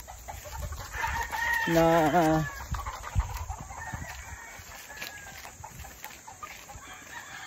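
Roosters crow and chickens cluck at a gamefowl breeding farm, one clear crow rising mid-clip among scattered clucks, moderately near, with a voice speaking briefly.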